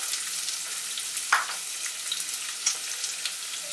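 Chopped onions hit hot oil in a pan for Trinidad-style geera pork, giving a steady close sizzle with a couple of brief louder spits.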